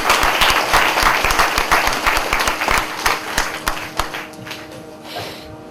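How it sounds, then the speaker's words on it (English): An audience gives loud, close applause after a veena recital at an arangetram debut performance, a crisp mass of hand claps with some distinct individual claps that gradually thins and fades toward the end. "I think she deserves a big round of applause."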